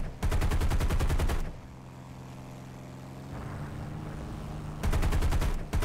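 Rapid machine-gun fire in the War Thunder air-combat game, two loud clattering bursts at the start and end, with a steady aircraft engine drone in between.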